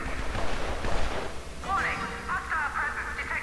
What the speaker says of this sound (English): that gunfire is loud